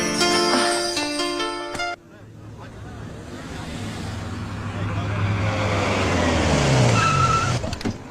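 A car drives off with a rising engine roar and tire rush after a musical sting, steady and fairly loud, with some speech-like sound mixed in.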